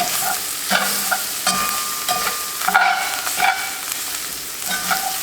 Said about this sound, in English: I'm just going to dust it all over this sausage. And we're going to mix that up.